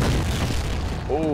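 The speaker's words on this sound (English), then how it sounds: "That's a grenade!" A grenade blows up in the shooter game F.E.A.R., a dense rumbling blast filling the whole short moment, loud and close, with a voice starting to speak right at the end.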